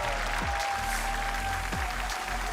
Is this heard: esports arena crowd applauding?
yes